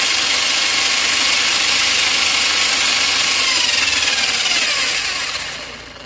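A Hobao RC car engine on a bench test at half throttle, producing a loud, continuous high-pitched buzzing roar that holds steady and then tapers off near the end.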